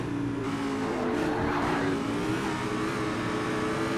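Dodge Viper with an 8.5-liter V10 in the racing video game Race Driver GRID, a steady loud engine drone holding through the whole stretch with a slight swell in the middle, no voices over it.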